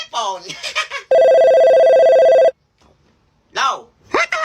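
A new cellphone rings with a loud, steady electronic tone lasting about a second and a half, with people talking excitedly before and after it.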